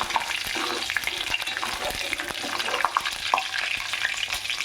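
Curry leaves crackle and sizzle in hot oil, a steady dense frying hiss with scattered pops and a few stirring scrapes, heard close with no talking.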